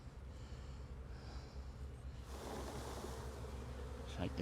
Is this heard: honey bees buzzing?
yes